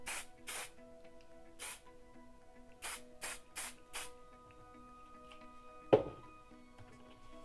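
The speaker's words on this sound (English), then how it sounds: "See that I spray down." Hairspray is sprayed onto a wig updo in a series of short close hisses, two quick bursts, a single one, then four in fast succession, followed by a faint tap and quiet handling.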